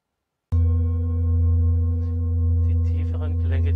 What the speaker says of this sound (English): The lower tones, which now evolve from the bowl, correlate with the region and create a pleasant feeling.